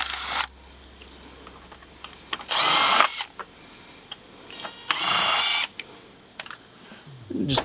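A power drill buzzes in two short, loud bursts while backing out T40 screws from a front bumper fascia, with quiet clicks and handling noises between the bursts.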